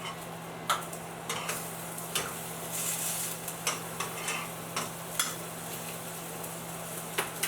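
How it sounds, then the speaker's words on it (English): Mushrooms frying in hot oil in a pan make a steady, close sizzle, with soft stirring clicks and scrapes scattered through it and no talking. "They're frying off almost from the outside, but from the inside to the outside because I sucked up that hot oil."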